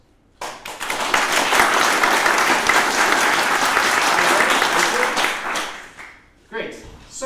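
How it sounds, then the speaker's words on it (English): Loud, dense audience applause at a talk on the future of ODF, building quickly and holding steady for about five seconds before cutting off, followed by a brief burst of clapping. "5 seconds of maximum applause."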